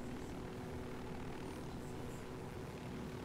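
Helicopter rotor and engine drone from the video game Ghost Recon Wildlands, a steady, continuous mechanical hum with rumble, sitting fairly distant and even throughout with no talk over it.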